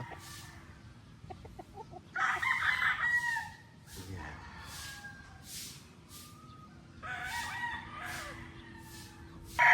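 A stag gamefowl rooster, a white general, crows loudly twice in long drawn-out calls, with softer clucking and other birds in the background between crows.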